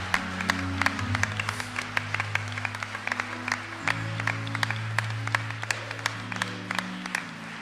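A church congregation applauding, with crisp claps scattered through a steady wash of crowd noise, while a sustained organ or keyboard chord shifts slowly underneath for nearly eight seconds.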